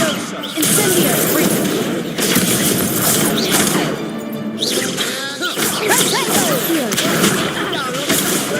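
Incendio fire spell cast in the Hogwarts video game, a loud sustained crackling, whooshing blast of flames with bursts and swells over continuous game noise, running the whole time without pause.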